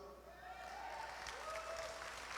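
A church congregation at a Sunday service applauds in a steady, moderately dense patter heard at a slight distance, with a voice speaking over the clapping.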